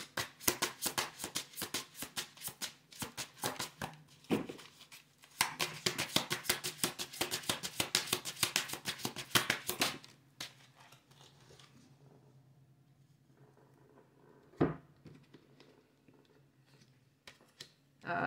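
A tarot deck is shuffled in two long bursts of rapid, crisp riffling clicks, close and fairly loud, then quieter taps and slides as cards are pulled and placed.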